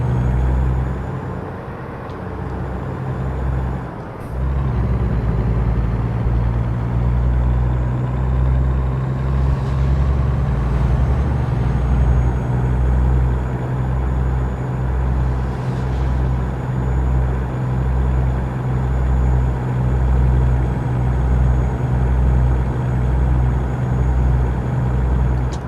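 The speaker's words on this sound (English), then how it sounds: "Oh, grind those gears, Dave." Semi truck driving on a highway between Socorro, New Mexico and Holbrook, Arizona, a loud steady low engine drone and road rumble inside the cab, with a brief dip and clunk early on as gears shift.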